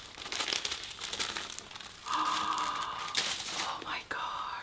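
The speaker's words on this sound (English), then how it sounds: "Take off the tissue paper." Tissue paper is pulled out of a Chanel bag box, giving close, steady crinkling and rustling with brief tearing-like swishes, and soft whispery breath noise throughout.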